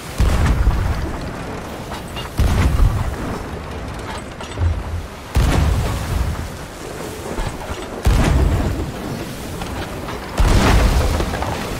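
Cannon fire and impacts during a naval video game battle between rowboats, a series of heavy booms roughly every two to three seconds, each followed by a rumbling tail, loud and without talk.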